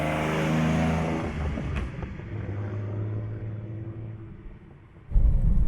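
A stock engine in a GS30 Nissan Fairlady Z with changed carburetors and exhaust manifold revs smoothly up and down, a steady mechanical rumble that swells, settles, then surges louder at the end.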